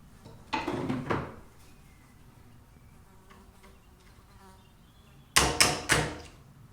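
Captive pins are tapped out of a Savage Revel Classic lever-action rimfire rifle in two short clusters of sharp metallic taps, a few strikes each, close and separated by a quiet pause.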